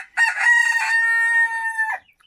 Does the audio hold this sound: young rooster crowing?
yes